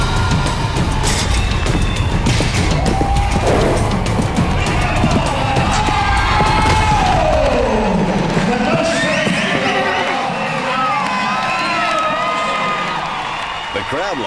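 A rodeo arena crowd cheers and yells loudly throughout after a horse ride, with a whooping swell midway, and voices talk over the sustained noise.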